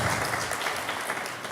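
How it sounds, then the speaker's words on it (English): A round of applause from the audience at an artificial intelligence forum: a dense, steady wash of many hands clapping together in a hall, sustained and even throughout without pauses. "Round of applause."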